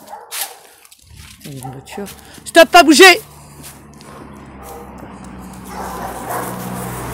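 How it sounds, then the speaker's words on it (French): Dogs from a kennel bark and yelp outdoors on a cold day, a burst of sharp, loud barks in the middle amid steady background noise, while someone talks over them. "Il y a les chiens du chenil qui gueulent."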